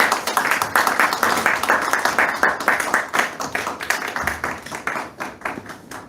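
A church congregation claps together in welcome for a missionary, giving a steady, fairly loud patter of many hands that continues evenly for several seconds, with faint voices underneath.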